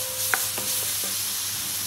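Garlic, ginger and chilli hit a hot pan for a bredes mourongue fricassée: a steady, close hiss of sizzling with a few soft stirring scrapes and no talking.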